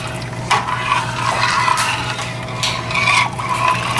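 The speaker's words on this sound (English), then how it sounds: "I'm going to stir this so the rice don't stick together" Rice in a pot of water for crawfish stew being stirred, with several wet swishing scrapes of the spoon over a constant low hum, fairly close and clear.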